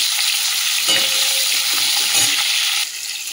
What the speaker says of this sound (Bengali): ওই তেলের মধ্যে যে ফুলকপিটাও ভেজে তুলে নেবো।